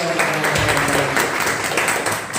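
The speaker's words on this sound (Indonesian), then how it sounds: "Ya, untuk Kakak Faros terima kasih, tepuk tangan lagi" A school audience gives a steady burst of clapping for a student speaker during a student organisation session, fairly loud and continuous.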